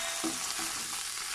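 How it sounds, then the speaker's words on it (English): Onion, garlic and tomato sauté in hot oil, making a brief burst of bright, steady sizzling with a couple of soft stirring knocks. "magigisa tayo ng sibuyas, bawang, tomato"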